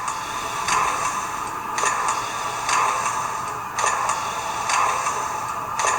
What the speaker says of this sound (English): When you first power up the model, you'll hear the air pump kick on.